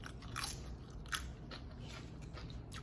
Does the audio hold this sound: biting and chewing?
yes